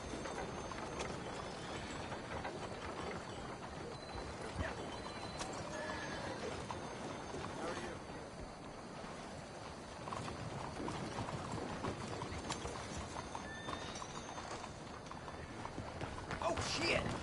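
Horse whinnies and galloping hooves in Red Dead Redemption 2, steady clip-clop running through the whole stretch with occasional neighs over a busy game soundscape, with a rider urging the horse on.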